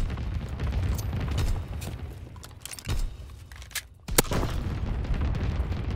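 An anti-aircraft battery fires in a war video game: scattered booming blasts and sharp cracks, some loud and close, others more distant, over a continuous rumbling battlefield background.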